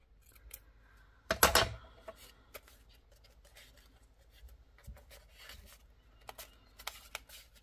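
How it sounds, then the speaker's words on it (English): Scissors snipping through paper for a collage on an MDF tag, a burst of close crisp cutting followed by scattered light snips and paper rustles, no talking. "I need my scissors so I can cut again."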